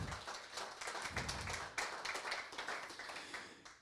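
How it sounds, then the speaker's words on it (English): An audience at a 2021 South Australian innovation awards event claps in a sustained, dense wash of applause. It sounds faint and somewhat distant and runs steadily for nearly four seconds without speech. "Could you join me in a round of applause for John Paul and the Advanced team?"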